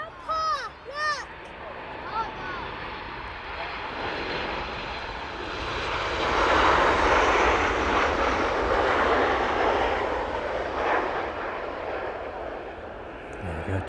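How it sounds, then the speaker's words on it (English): A Ryanair airliner arriving from Alicante touches down at East Midlands Airport, a broad, rumbling jet roar that builds, peaks mid-clip and then holds steady as it rolls out, with brief voices and faint chatter nearby at the start. "touching down into East Midlands this afternoon then. That Ryanair service in from Alicante"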